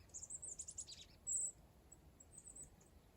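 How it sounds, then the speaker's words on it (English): Little birds twitter and tweet faintly outdoors near a garden greenhouse, a quick run of high chirps followed by a few scattered calls over quiet background. "I'm hearing a bunch of little birds twittering and tweeting."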